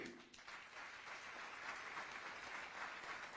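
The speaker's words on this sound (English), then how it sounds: "A round of applause for all of you" Audience applause at a formal Foundation Day programme, a dense, even patter of many hands clapping together in a hall, sustained and moderately loud throughout.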